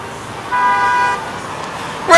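A Dodge Durango's car horn blares in two bursts, a sustained honk followed shortly by a second sharp toot, loud and nearby against faint street noise.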